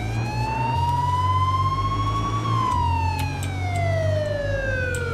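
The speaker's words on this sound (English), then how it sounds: "I'm just driving around in the police car with the siren on screaming, vote for Trump" A police car siren wails loudly and steadily while the car drives, its pitch rising slowly and then falling in one long sweep over a low engine hum, with no voices.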